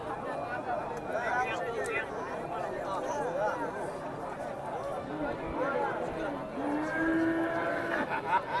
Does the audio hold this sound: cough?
no